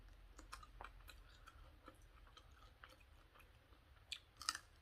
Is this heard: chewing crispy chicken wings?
yes